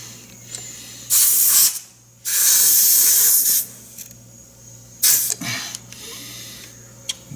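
Air hissing at the front tire valve stem of a 2006 Honda Gold Wing during a pressure check: several sharp, close bursts of hiss, two longer and others brief, separated by quiet gaps.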